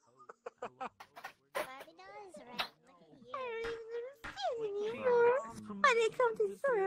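A cat meows repeatedly in the VRChat video game, a string of short, then drawn-out, wavering mews and yowls, fairly close and prominent over quiet background.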